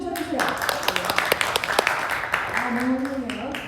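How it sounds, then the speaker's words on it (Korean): Applause from an audience at a Buddhist dharma talk, a short burst of scattered clapping under and between the speaker's ongoing talk. "박수 좀 쳐주세요"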